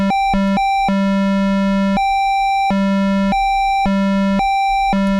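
A synthesizer square wave, its pitch stepped between a low and a high tone by an LFO, repeats in a steady alarm-like two-tone pattern, buzzy and harmonically rich, with no other sound.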